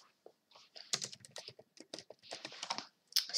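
Rapid keystrokes on a computer keyboard during an online chess livestream sound as close, crisp clicks in quick uneven bursts with brief pauses between words, and no one speaks.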